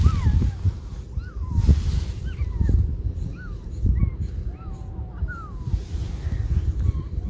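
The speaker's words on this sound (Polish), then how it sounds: "Odgłosy z plaży mam." Wind buffets the microphone at a beach while surf rumbles steadily underneath, and high, chirping bird calls ring out repeatedly across the whole stretch.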